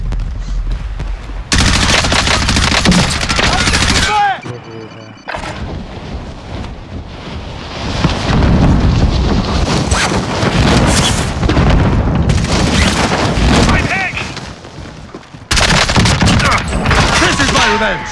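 Gunfire from the video game Call of Duty Warzone, loud sustained automatic bursts and booms filling most of the stretch, cut by brief gaps, with wind noise mixed in.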